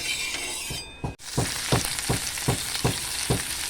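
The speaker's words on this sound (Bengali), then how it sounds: "তেল দিয়ে মাখিয়ে চাটুটা তারপরে ওপরে সুন্দর করে ভাজবো" Hilsa fish wrapped in bottle gourd leaves frying on an oiled flat griddle: a soft continuous sizzle with a brief clink early on, then regular scraping or pressing strokes, no talk.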